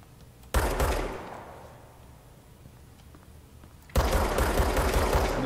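Bursts of gunfire in the video game Control: a loud rattling volley that fades into a low hiss, then a second dense burst kicks in near the end, close and forceful.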